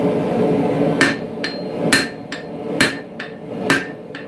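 A blacksmith hammers an obtuse bevel onto the back edge of a Bowie knife blade to form a harpoon point. About eight close, ringing hammer blows fall in a steady rhythm, heavy strikes alternating with lighter taps over a low background roar.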